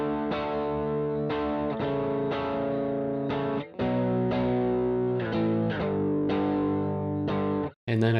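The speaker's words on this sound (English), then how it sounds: "there I've recorded some beefy guitar chords, panned them left, they sound like this." Thick, heavily distorted electric guitar chords panned to the left ring out in sustained strums, changing every second or so with brief breaks, loud and up close.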